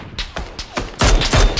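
Gunshots crack in PUBG, four sharp, separate shots at a steady pace followed by a louder, denser burst of rapid fire, fairly close and prominent.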